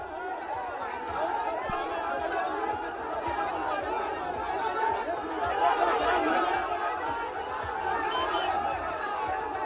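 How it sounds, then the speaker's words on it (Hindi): Crowd of protesters at a political gathering in Lakhisarai, Bihar, with dense, continuous chatter and mingled shouting rising and falling throughout, loud and close, no single clear chant standing out. "ये तस्वीर उसी वक्त की है, उसी घटना की है जब मुर्दाबाद के नारे लगाए जा रहे हैं"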